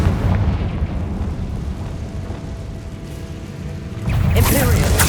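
A Confringo blasting spell explodes in Hogwarts Legacy, a sharp loud burst near the end that follows a long stretch of rumbling, crackling game noise.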